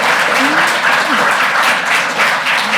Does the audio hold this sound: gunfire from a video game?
no